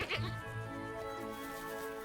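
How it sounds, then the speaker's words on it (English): Sheep and goats in the Carpathian Mountains bleat in a drawn-out, wavering call, close and steady for about two seconds, with voices talking underneath. "For the first time in their lives, they are confronted with goats and sheep"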